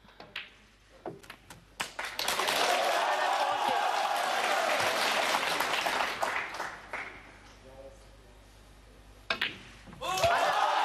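A snooker crowd bursts into sustained applause for a 147 maximum break by Ronnie O'Sullivan. The applause follows a few sharp ball clicks, swells loudly for several seconds and then fades as a commentator talks.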